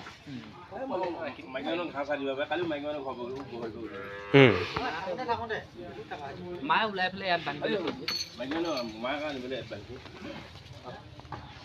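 A cow lets out a loud, drawn-out moo partway through at a cattle sale, while people talk steadily before and after it.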